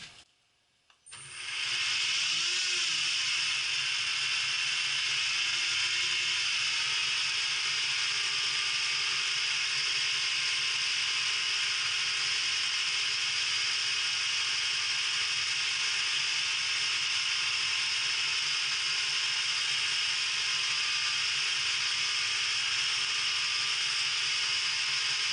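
A belt grinder fitted with a Scotch-Brite belt spins up after a brief quiet start and then runs at reduced speed as a steady, loud whirring hum that holds for the rest of the stretch, with no talking.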